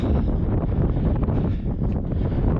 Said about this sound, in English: Just starting to get a little bit of moisture in the wind, so hopefully it'll hold off.